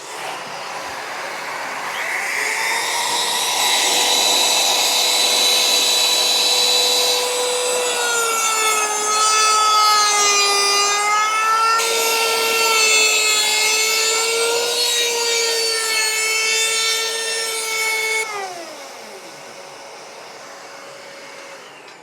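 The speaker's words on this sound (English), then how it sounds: "Turn the hoover on and the router," An electric router cuts a slot in furniture-board wall panels inside a Vauxhall Movano van conversion, with a vacuum running alongside, making a loud, steady whining drone that holds for about fifteen seconds and then winds down.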